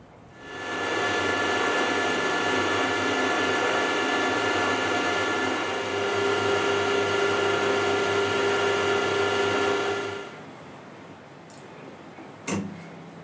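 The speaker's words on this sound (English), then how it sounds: "Now turn the block round and drill and tap the last hole." A drill bores and taps a hole in a metal vice stop block, a steady close whirring drone lasting about ten seconds, then stopping, followed by a single sharp clink.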